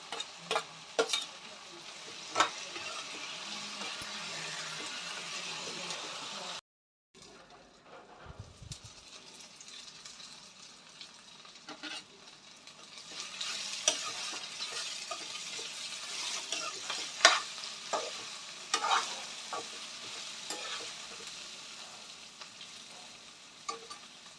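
Bitter gourd seeds fry in a pan with a steady sizzle and occasional stirring scrapes. A brief dropout near the seven-second mark breaks the sound before the frying resumes, louder and busier.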